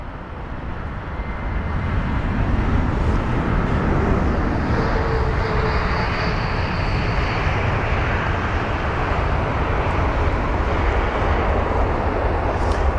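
An Airbus A321neo airliner at London Heathrow gives a broad, steady engine rumble that builds over the first seconds and then holds loud and continuous, with a faint whine above it.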